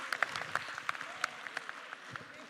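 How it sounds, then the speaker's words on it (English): Scattered, light applause from a symposium audience, individual claps popping irregularly over a soft room murmur for a couple of seconds. "Clap."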